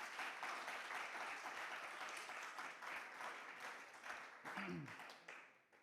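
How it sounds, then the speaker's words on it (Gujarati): An audience at a weekly temple sabha claps steadily for the bhajan team, a dense, continuous patter of many hands at moderate distance, with a brief voice near the end as it tapers off. "આપણે પહેલાં ભજન ટીમ માટે એક વખત ફરીથી જોરદાર તાળીઓ બજાવી લઈએ."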